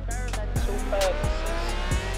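Car driving in the video game Forza Horizon 4: a steady engine drone with repeated quick revving gear shifts and a brief tire squeal, sounding close and continuous.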